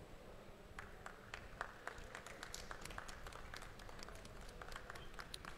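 Audience applause at an international millet convention in Bhubaneswar, a steady patter of many hands clapping together, fairly distant and faint, sustained throughout.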